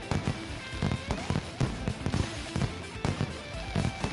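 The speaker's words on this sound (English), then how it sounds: "It was merely a fireworks display." Fireworks display bangs in the Danganronpa 2 video game, a dense run of sharp pops and crackles repeating every fraction of a second over a steady game background, fairly loud throughout.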